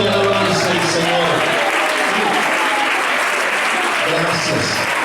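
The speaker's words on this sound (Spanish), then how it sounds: "Un aplauso de alabanza al Señor." Applause of praise rings out in a church, with a dense, sustained clapping from a congregation that fills the whole stretch and stays loud throughout.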